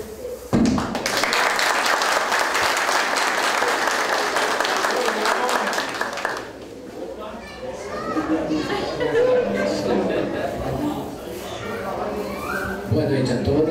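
An audience at an evening environmental conference gathering in Aracaju breaks into loud applause that lasts about six seconds, then subsides into chatter and children's voices, with clapping rising again near the end.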